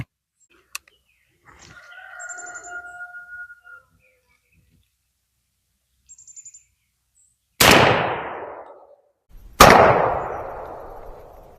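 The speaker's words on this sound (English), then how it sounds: "Let's shoot these Federals at a 12 inch bullseye target down there at 15 yards" A Stevens 301 .410 shotgun firing 2.5-inch Federal Hi-Brass No. 6 shot game loads at a bullseye target 15 yards away. Two loud, close blasts about two seconds apart each trail off into a decaying echo, following quieter scattered sounds.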